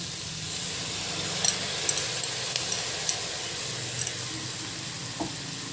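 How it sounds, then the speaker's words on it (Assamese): Rice and lentils frying with garam masala in a pan: a steady close sizzle with scattered small pops and stirring clicks, no talking. "এইখিনি অলপ সময় 5 মিনিট মই এনেকৈ ভাজি থাকিম।"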